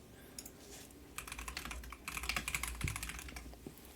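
Rapid clicking of a computer keyboard as someone types out a Google search, the keystrokes coming in irregular bursts that grow denser and a little louder toward the end, close by with no talking.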